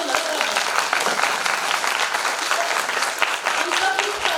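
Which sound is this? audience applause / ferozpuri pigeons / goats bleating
audience applause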